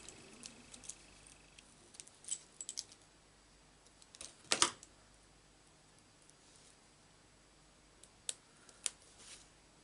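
Scissors snip a paper Christmas tree die-cut in half at a craft table, giving a few sharp close clicks and cuts spaced irregularly, with a brief cluster of snips in the middle and near-silence between them.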